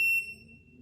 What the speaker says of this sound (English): Don't worry about the alarms. They're kind of annoying